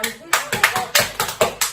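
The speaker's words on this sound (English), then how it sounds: "Round of applause, please." An audience applauds for Anderson at a corporate talk event, with a run of sharp, fairly close hand claps in an irregular rhythm over about two seconds, under no talk.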